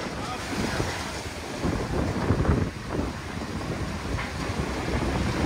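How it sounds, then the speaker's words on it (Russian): Rough, windy water noise as storm waves surge over a seafront embankment in Lazarevskoye, steady and loud throughout, buffeting the microphone. "Волна на набережной."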